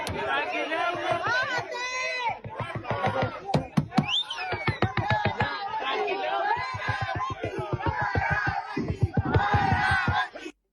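A protest crowd jeers a public official, many voices shouting and chanting together in a loud, rhythmic, close-up hubbub that cuts off abruptly at the end.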